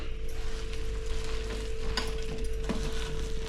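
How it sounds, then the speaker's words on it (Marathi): Aloo vadi batter being mixed with salt in a pan, a continuous close scraping and sizzling stir with a steady hum underneath and a few sharper clicks, no talking. "आणि सगळं मिक्स करून घ्यायचं व्यवस्थित"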